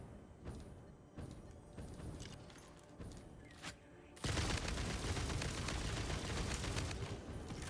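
Video game gunfire: spaced shots give way to sustained rapid automatic fire that fills the second half loudly, with no voices.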